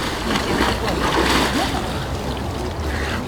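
Water sloshes and splashes as people plunge into an ice hole in a river during Epiphany celebrations, a continuous churning wash with crowd voices mixed underneath.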